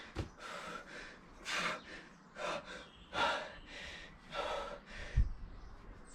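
A nervous person breathes heavily in a steady series of close, loud gasping inhales and exhales, with one sharper snort-like breath near the end and no speech.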